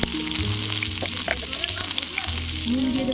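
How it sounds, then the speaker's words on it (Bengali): Radish fries in hot oil with a steady, close crackling sizzle and a few light stirring scrapes over about three seconds. "এবারে মূলোটা ভেজে নেব"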